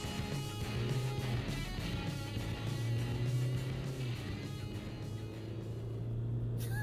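Two pickup trucks, a Toyota Hilux and a Mitsubishi L200, drag racing over a quarter mile (402 m), giving a steady, loud engine drone with a low rumble that holds through the run, no talk over it.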